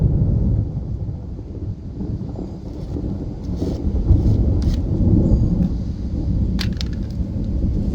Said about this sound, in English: We got some good lightning and thunder going on.